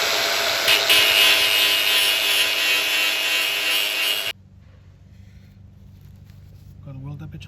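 A power tool saws through metal on a vehicle front clip for a turbo expedition build, a loud harsh grinding rasp that runs steadily for about four seconds, then stops abruptly into a quieter background hum.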